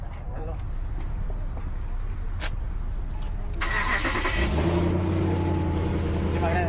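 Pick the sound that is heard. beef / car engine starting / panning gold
car engine starting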